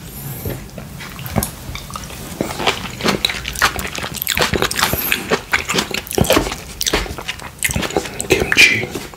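Fried tofu pockets stuffed with rice and kimchi being eaten up close, with soft wet chewing and bites in irregular bursts, plus some moist smacking sounds.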